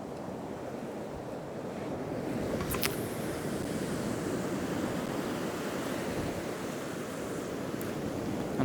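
Sea surf breaking at low water on a weedy shore at Arbroath, a steady rushing wash mixed with wind buffeting the microphone, swelling slightly midway and continuing without any speech.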